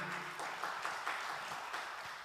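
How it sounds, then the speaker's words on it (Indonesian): Worshippers at a Sunday church service clap together, a brief, dense patter of applause at moderate level with no speech over it. "Beri tepuk tangan dulu untuk Tuhan kita."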